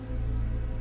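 A gentle rain shower, a soft steady patter with a low continuous hum beneath, brief and even with no voices.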